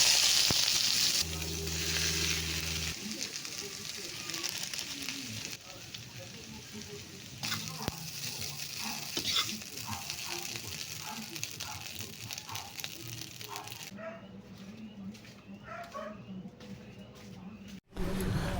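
Fried rice with water spinach sizzles in a pan, a steady crackling hiss with scattered pops and occasional stirring scrapes, a brief tonal hum early on, and the frying continuing close and fairly loud throughout.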